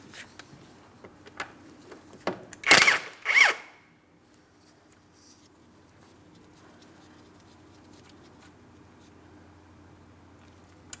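An impact driver with a 17mm socket removes a tie rod mounting nut on a 2004-2008 Pontiac Grand Prix, whirring in two short loud bursts, with lighter clicks and clanks around it, then a faint steady hum.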